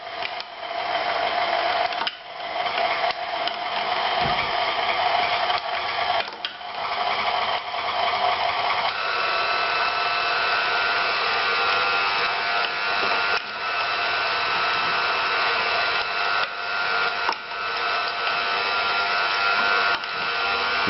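A meat grinder runs steadily as venison is fed through it with cubes of butter, giving a continuous mechanical whir with occasional small bumps and shifts in tone, no talking.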